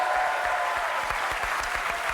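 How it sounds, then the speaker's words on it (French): Studio audience applauding a game-show contestant, a steady dense patter of many hands clapping throughout, loud and close. "On acclame Sabrina"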